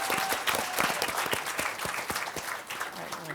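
An audience at the 2023 Impact Summit opening plenary applauds, dense steady clapping from a crowd with individual sharp claps standing out, sustained through the whole moment.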